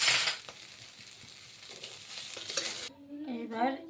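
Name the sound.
frying and stirring in a pan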